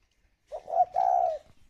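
A spotted dove gives a single close, soft two-part coo, a short note followed by a longer drawn-out one, clear against silence.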